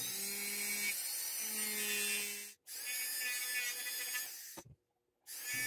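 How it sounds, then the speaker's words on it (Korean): A small handheld rotary tool carving out the inside of a wax jewelry pendant: a high, steady whine that runs continuously, cuts off briefly, resumes, then stops and starts again. "왁스 보석 속파기를 합니다."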